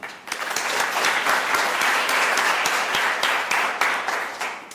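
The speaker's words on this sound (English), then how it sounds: "So let's just give them a round of applause again to appreciate what they've done." A round of applause from an audience at a talk on under-utilised crops and indigenous foods, sustained and fairly loud, with a few sharper individual claps standing out.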